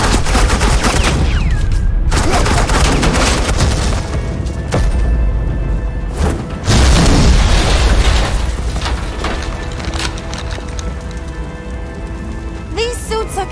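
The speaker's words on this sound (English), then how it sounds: "suppressing fire." Dense, continuous gunfire from suppressing fire in the Telltale Batman video game, with booming blasts and a rattling wash of shots that never lets up, loud throughout with a heavier burst near the middle.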